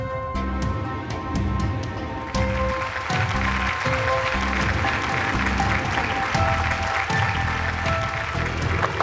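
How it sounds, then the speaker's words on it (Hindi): Audience applause at a staged event for a superhero children's series, loud steady clapping filling the whole stretch with a brief swell partway through, no talking over it. "अपनी तालियां बचा के रखिए"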